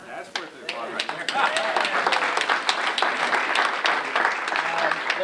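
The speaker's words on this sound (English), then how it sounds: "That's worth the applause right there." Audience applause building from a few scattered claps into steady, fairly loud clapping across the room, with voices audible underneath.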